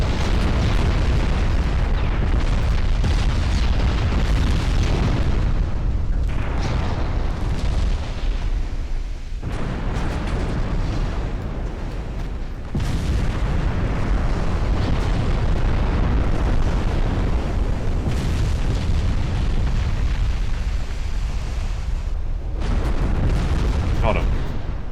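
Flash fire explosion wrecking a basic gun in the war game DIP v2, heard as dense, loud rumbling blasts and booms that pile up almost without a break, with speech over them.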